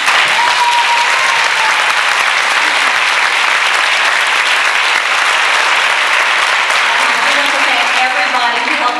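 Loud, dense applause fills a banquet hall as guests clap for Carolyn Wanamaker, a thick unbroken roar with faint voices and cheers mixed underneath for the whole stretch.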